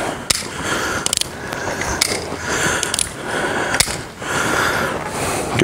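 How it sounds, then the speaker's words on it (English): A gun dry fired several times, giving sharp metallic clicks of the mechanism spaced about a second apart, close and distinct over a steady background hiss. "Dry fired a few times."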